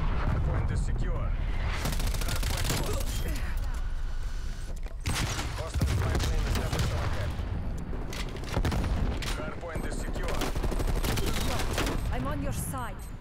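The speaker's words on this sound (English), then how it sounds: "Artillery targeting active. Awesome. Artillery inbound." Artillery strike explosions in Black Ops Cold War multiplayer, a dense run of booming blasts and crackling gunfire filling the scene, with game voice announcements over the top.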